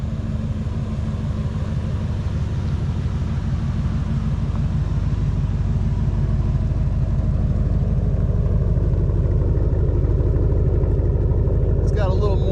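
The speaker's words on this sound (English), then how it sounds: "There is the exhaust." A Chevrolet Suburban with an 8.1 V8 and its muffler deleted idles loudly and close, a deep, steady exhaust rumble that continues throughout, with a brief higher sound near the end.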